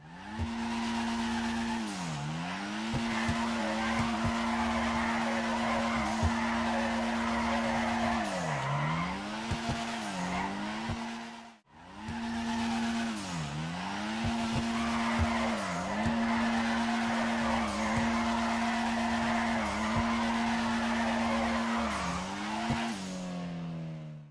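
A car engine in GTA 5 holds a steady pitch while tires squeal continuously through long drifts, dipping and rising with each turn, a brief cut midway, then it resumes.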